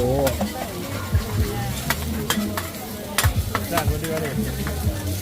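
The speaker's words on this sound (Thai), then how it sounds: "ร้านนี้เป็นร้าน หอย ทอดทะเลรวม นะฮะข้าวผัดกระทะยักษ์นะครับ" Rice stir-fried in a giant wok at a street food stall: a steady sizzle with frequent metallic scrapes and clanks of a spatula against the pan.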